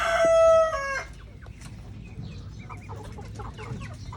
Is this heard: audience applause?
no